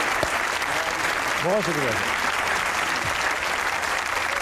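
A television studio audience applauds continuously on a comedy talk show while someone speaks over the clapping, which stays loud and even under his voice.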